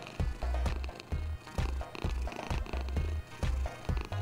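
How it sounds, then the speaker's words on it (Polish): A cat purrs in a video game simulator, a loud steady rumble pulsing in repeated cycles about every half second, with no talk over it. "Zawsze w tym samym miejscu pieprzony kot"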